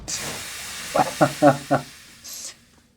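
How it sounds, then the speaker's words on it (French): A jet of steam hissing in the video game Pillars of Eternity: brief airy hisses, one at the start and a short sharper burst near the end, with other game sounds in between. "Un petit jet de vapeur, là."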